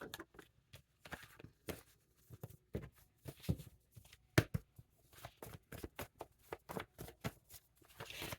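Cards being shuffled in quick riffling bursts, a crisp flutter repeated many times in a steady rhythm, close up and fairly quiet.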